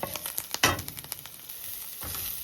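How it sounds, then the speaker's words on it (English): Garlic and ginger saute in a very hot pan, a soft steady sizzle broken by sharp clicks and scrapes of stirring, one louder clatter early on, no voices. "we have our garlic and ginger, and we're going to lower the heat a little more because this pan gets very hot. And it's sauteing for a minute."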